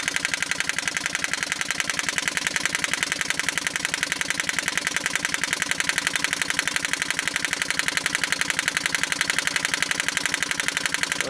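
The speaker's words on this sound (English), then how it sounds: "I'd say that's idling pretty slow." A 1940 Evinrude Handitwin 3 hp twin-cylinder outboard motor idling slowly while pumping water, a steady, even low putter of regular firing pulses, close and continuous with no voices.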